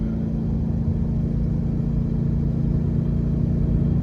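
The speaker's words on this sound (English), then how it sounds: "And you can hear by how hot she's revving" A 2019 BMW M850i engine runs loud and close, a steady high-revving drone with a constant pitch throughout, no talking.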